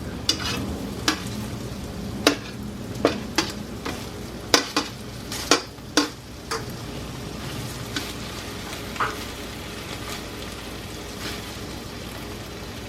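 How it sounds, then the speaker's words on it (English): Beef steak frying in a pan while being stirred, with a steady sizzle underneath and a series of sharp scraping clinks of a utensil against the pan bottom, close and clear. "When it's almost done cooking, I like to swirl the meat around and pick up that flavor on the bottom of the pan."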